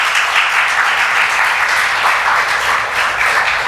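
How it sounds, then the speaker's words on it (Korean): A church congregation breaks into loud, sustained applause, many hands clapping together evenly and close by for the whole stretch, with no speech over it. "큰 박수로 보내주시죠."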